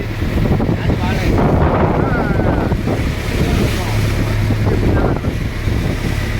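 Strong wind off a river buffets the microphone in a continuous roar, with water lapping nearby and a faint voice in the background.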